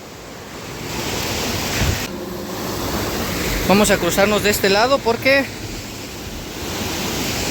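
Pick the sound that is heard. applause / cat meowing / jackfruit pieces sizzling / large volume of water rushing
large volume of water rushing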